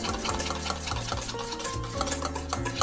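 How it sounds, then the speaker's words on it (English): Hot sabayon whisked quickly in a bowl just off the heat, producing a rapid, rhythmic clatter of whisk against the bowl, close and continuous for a few seconds. "remove it from the heat and whisk it quickly off the heat for a moment."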